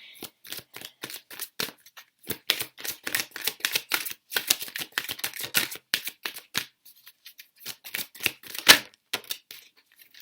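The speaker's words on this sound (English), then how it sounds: "Do a live shuffle." Rapid, crisp flicking and riffling of tarot cards being shuffled, dozens of quick papery snaps in uneven bursts with brief pauses, close up.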